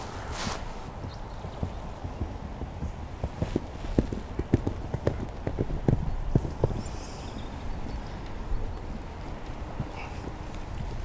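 A horse walks during a riding clinic demonstration, its hooves thudding in a steady, moderately close rhythm over constant background noise.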